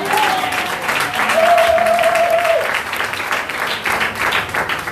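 A church congregation claps and cheers together, a lively wash of applause with a few raised voices calling out and a brief sustained tone riding over the clapping.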